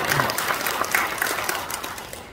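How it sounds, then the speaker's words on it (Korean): A church audience at a New Year breakfast prayer meeting in Juan Presbyterian Church, Incheon, applauds again for a guest singer. The clapping is brief and fairly loud and fades toward the end. "다시 한번 박수"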